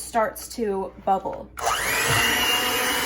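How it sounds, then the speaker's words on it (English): An electric hand mixer whirs loudly and steadily as it whisks egg whites for a lemon meringue pie. It starts up right after a short stretch of someone talking. "You're gonna plug in your hand mixer, and then you're going to use that to whisk this"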